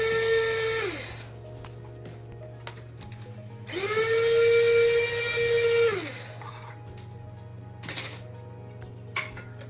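An electric grinder whirs through roasted whole spices for a curry spice mix, running in two loud bursts of about one and two seconds, then stopping, with clicks and rattles between.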